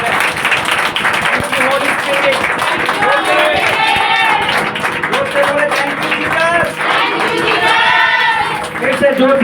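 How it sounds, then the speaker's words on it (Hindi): A congregation at an Easter resurrection church service claps loudly with both hands, a dense, steady wash of applause that runs the whole time beneath voices speaking and calling out. "जोर से दोनों हाथों से ताली बजाकर उसका धन्यवाद।"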